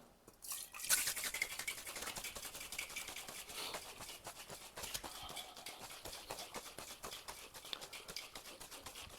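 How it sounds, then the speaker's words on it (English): A cocktail shaker gets a dry shake with lemon juice and egg white, a steady fast rattling slosh that is close and continuous for several seconds. "A nice dry shake to emulsify that egg white."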